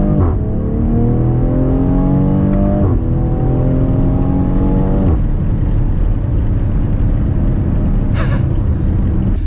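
A BMW X3 M40i accelerating hard in second gear, its loud engine note climbing in pitch through repeated surging pulls, close and continuous with no talk.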